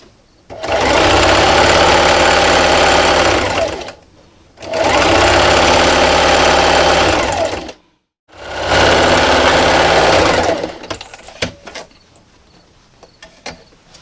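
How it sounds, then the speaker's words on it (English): An electric sewing machine stitches a T-shirt quilt row in three long, loud bursts of steady whirring separated by short pauses, followed by faint clicks and handling noises near the machine. "now I'm just going to backstitch and sew all the way down the length of my row"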